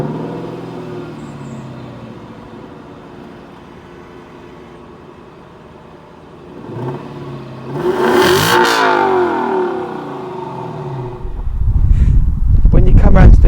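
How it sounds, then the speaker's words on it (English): Lexus LC 500 Convertible with a naturally aspirated 5-litre V8, growling and rising in a loud rev that swells and falls, then builds again to a deep roar near the end, with a voice talking over it. "the soundtrack these make from these naturally aspirated 5-litre V8 are incredible"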